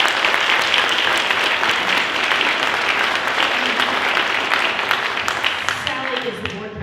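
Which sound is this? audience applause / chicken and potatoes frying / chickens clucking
audience applause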